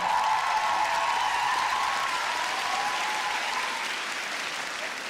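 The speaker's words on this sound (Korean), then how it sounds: "박수 보내주세요" A large audience at the KBS Drama Awards ceremony applauds steadily for an actor's Top Excellence Award, a broad sustained wash of clapping with music underneath, fading slightly toward the end.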